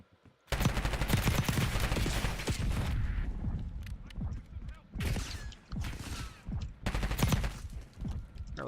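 Call of Duty Warzone gunfire rattles in rapid volleys, a long sustained burst at first and then shorter clusters of shots separated by brief lulls, loud and close.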